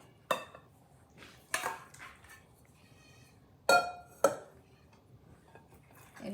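Lamb meat being stirred with masala in a pot, giving a few sharp clanks of a utensil against the metal around the mixing, otherwise quiet with soft scraping between the hits.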